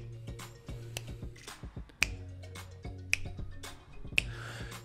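Crisp finger snaps land on the beat over a backing music track, three sharp, prominent snaps spaced about a second apart standing out above the steady rhythmic music.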